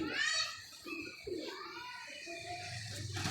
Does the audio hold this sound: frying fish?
no